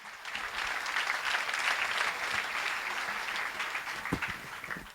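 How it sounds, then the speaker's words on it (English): A press conference audience gives a round of applause, dense continuous clapping that holds steady for the whole stretch, with a few louder individual claps near the end. "applause to him"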